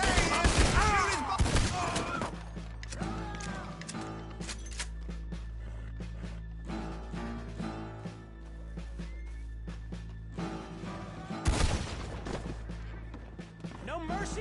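Gunfire in the Western game Red Dead Redemption 2: loud bursts of shots open the clip and return near the end, with calmer game ambience in between and a voice talking over parts of it.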